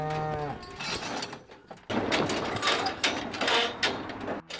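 Cattle on a ranch lowing in several loud, drawn-out moos, one clear low call at the start, then overlapping bellows from the herd close by.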